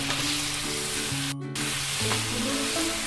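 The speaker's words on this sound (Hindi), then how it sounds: "फ्लेम को भी हाई करेंगे और हाई फ्लेम पे इसे मिक्स करेंगे।" Baby corn tossed in masala on a high flame, sizzling and frying steadily, with a brief sharp clatter of stirring partway through; no voices.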